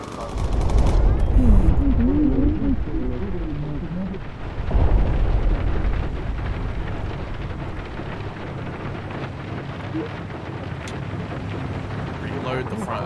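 Sustained machine gun fire from the front turret of a bomber in the video game Bomber Crew, loud dense bursts at the start easing into steadier rattling, with a voice talking over it.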